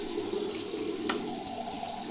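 Cold water runs steadily from a tap into a sink, a constant close hiss with a brief brighter splash about halfway through, and nobody speaks.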